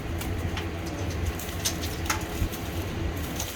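Racing pigeons cooing in a loft, soft repeated low coos over a steady background hum, with occasional faint flutters and no voices.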